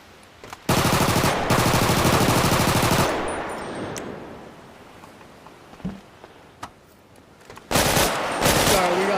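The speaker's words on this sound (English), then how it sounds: "We got the assault SMG." Video game assault SMG fire from a FiveM sound pack rips out in a fast, loud automatic burst for a couple of seconds, then fades. A few isolated clicks follow before another sharp burst near the end.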